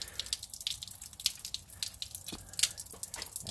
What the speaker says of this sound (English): let's let enough of the water pressure drain out